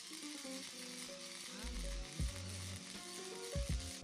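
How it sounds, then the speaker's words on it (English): Steel legs being welded onto a homemade rocket camping stove, a steady crackling sizzle of the arc running under music. "Lay the legs down flat on the tabs and weld them on"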